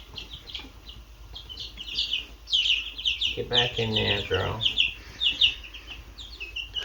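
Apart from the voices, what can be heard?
baby chicks chirping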